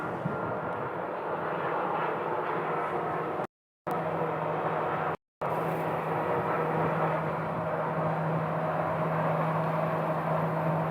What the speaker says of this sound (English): don't know if you can hear the engine start on this plane, but they are starting up.